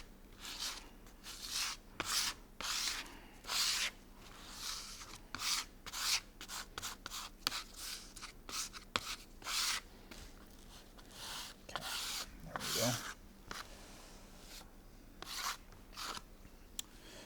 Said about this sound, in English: So we'll get that epoxy clear to the edges.